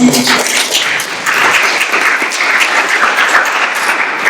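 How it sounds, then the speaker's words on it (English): A small audience at a startup meetup in Munich claps for the speakers, giving a short burst of lively applause that stays loud and even from start to finish. "So round of applause."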